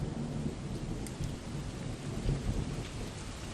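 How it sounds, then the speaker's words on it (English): Rain and thunder outside, a steady broadband wash of rainfall on surfaces with low rumbles of thunder, fairly faint and even throughout, no talking. "there's a little rain outside"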